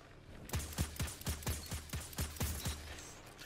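An automatic burst from the Scorpione Nero-4SR auto rifle in Destiny 2, about nine punchy shots at an even rapid cadence with deep thumps, loud and close, then a short tail.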